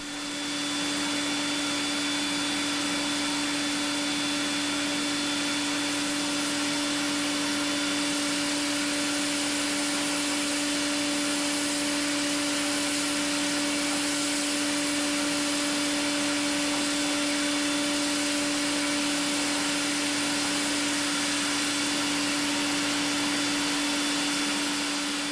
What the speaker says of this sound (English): the reason I have a vacuum cleaner going there